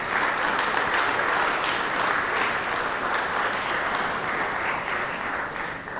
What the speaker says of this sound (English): So y'all can clap for him.